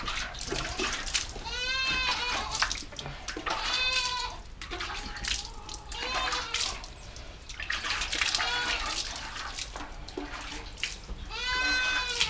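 Goats bleat on a farm, a series of loud, wavering calls repeating every couple of seconds close by, with quieter farmyard noise in between and no talking.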